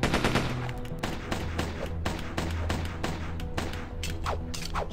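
Rapid gunfire from the video game Dex, dense bursts of loud shots in quick succession with mechanical clatter, continuous for several seconds.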